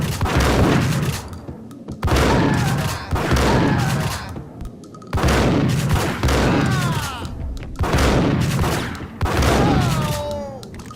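Gunfire from the Max Payne video game comes in five or six loud, close bursts of shots, each a second or two long, separated by short gaps, with game voices and effects mixed in.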